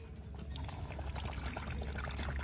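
Coconut water pours steadily out of a freshly opened coconut, a continuous splashing stream heard close up with no talking.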